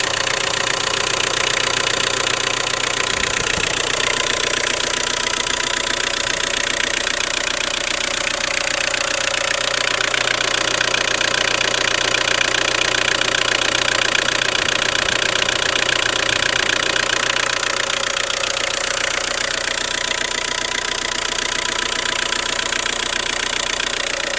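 Car engine fitted with an HHO cell, running at a steady idle, loud and close, with a continuous even hum and a faint knocking texture. No talk.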